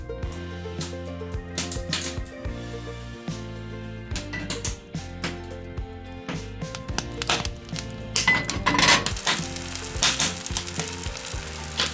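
Butter and bacon fry in a Lodge cast iron pan, a steady sizzle with occasional scraping clatter beneath background music, growing louder toward the end.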